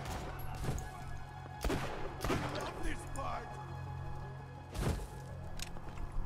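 Bursts of gunfire in Borderlands 2, a few scattered loud shots with thuds between them, mixed with game ambience and a voice talking.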